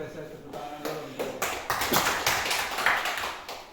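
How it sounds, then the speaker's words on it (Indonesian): Applause from a school audience for a teacher, a burst of clapping that builds and stays fairly loud for a few seconds with some voices mixed in. "Kita berikan apresiasi tepuk tangan dulu untuk"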